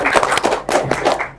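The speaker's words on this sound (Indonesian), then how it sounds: "tepuk tangan lagi dong" Students applauding at a school event in Palembang, a dense burst of clapping that swells and dips over about a second and a half, fairly close and loud, with no speech over it.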